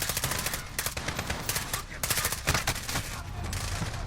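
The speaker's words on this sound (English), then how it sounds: "we've got to suppress the light, the spotlight. Because that's got a big machine gun on it" A spotlight-mounted machine gun fires during a Call of Duty: Modern Warfare campaign mission, with dense, continuous rapid bursts of gunfire and layered shots that are loud and sustained throughout.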